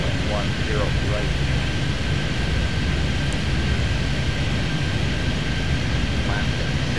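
Jet airliner taking off in the Airport Madness 3D game at a virtual SFO runway, a loud continuous engine roar and rumble throughout, under someone talking.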